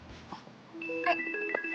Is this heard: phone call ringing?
yes